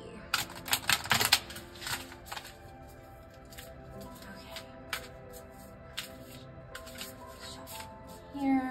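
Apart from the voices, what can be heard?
shuffling a tarot card deck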